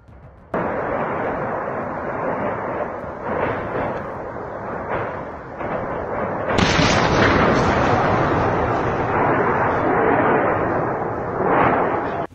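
Aerial bombs dropped by Russian aviation blow up an ammunition depot in Ukraine, a loud sustained roar of blasts and rumbling secondary detonations, swelling into a heavier burst midway through.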